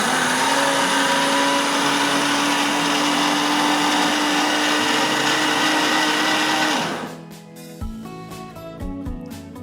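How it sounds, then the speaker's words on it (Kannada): A kitchen mixer grinder blends soaked rice with cumin, salt, oil and a little water in a loud, steady whirring drone for about seven seconds, then cuts off, leaving scattered clinks and small handling noises. "ಮಿಕ್ಸಿ ಮಾಡ್ಕೋಬೇಕು."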